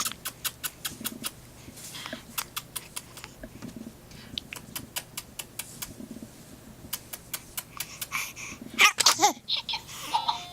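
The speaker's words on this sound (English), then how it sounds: "Did you sneeze? Yes, you sneezed." A baby gives a quick, sharp sneeze near the end, preceded by a run of light rhythmic clicking and small rustles, close and otherwise quiet.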